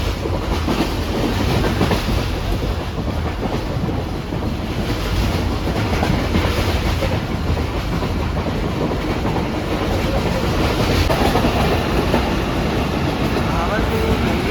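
Pak Business Express passenger train running on rails between Karachi and Lahore near Bahawalpur, a steady loud rumble with continuous rattling wheel clatter heard from on board throughout, no talk.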